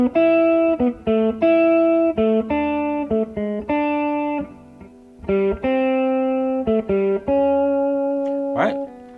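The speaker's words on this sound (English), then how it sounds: "if you hear just the guide tones, it has a particular melody to it." An electric guitar plays a slow melody of single sustained notes, each clear and ringing with a steady rhythm, close and fairly loud, with a brief scrape near the end.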